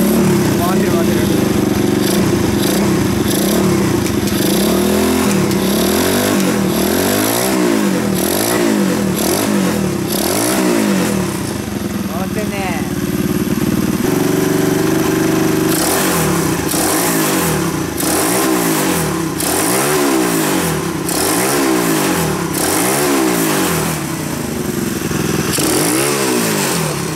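A Honda Choinori scooter fitted with a swapped Monkey-type horizontal engine revs up and down repeatedly in close, loud blips, its buzzing single-cylinder note rising and falling in a steady rhythm throughout.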